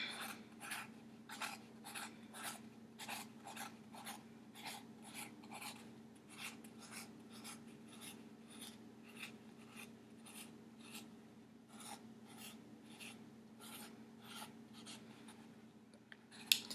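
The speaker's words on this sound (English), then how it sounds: "Then I will draw my dots." Rapid rhythmic tapping of a pen or marker dotting onto paper during an owl drawing, dozens of quick close strokes in steady bursts with brief pauses, quiet and without talk.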